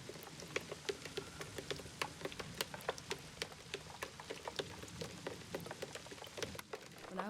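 Steady rain patters and ticks on a surface, with scattered sharp drops over a continuous soft hiss, fairly quiet and with no voices.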